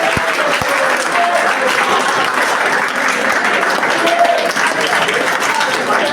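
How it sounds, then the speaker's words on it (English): A large crowd at a college event applauds loudly and continuously, a dense wash of clapping with a few cheers and voices mixed in. "A big round of applause."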